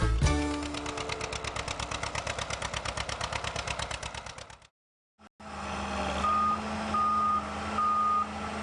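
Motor grader on a construction site emitting a steady run of rapid reversing beeps over a loud diesel engine, then after a brief cut the engine idles on with a faint repeating tonal beep.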